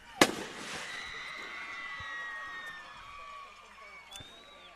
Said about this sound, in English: they're about to shoot off the fireworks here